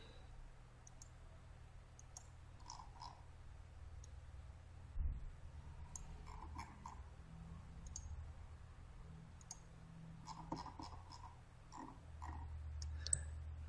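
Computer mouse buttons click in scattered light taps, quiet and close, over a low steady hum while someone drags and zooms in a drawing program.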